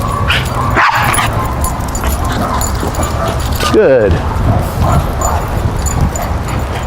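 A dog whimpers and yips briefly during ranch training while someone speaks commands over steady outdoor background noise.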